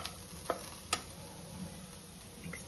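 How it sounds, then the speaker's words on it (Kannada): Onions deep fry with a little salt in a pan of oil for yellikaayi chitranna, giving a faint, steady sizzle. Two sharp scraping clicks from stirring break through near the start. "ಈರುಳ್ಳಿ ನೀಟಾಗಿ ಡೀಪ್ ಫ್ರೈ ಆಗ್ಬೇಕಂತ ಅಷ್ಟು ಸ್ವಲ್ಪ ಸಾಲ್ಟ್ ಹಾಕಿ ಈ ಥರ ಮಾಡ್ತೀವಿ"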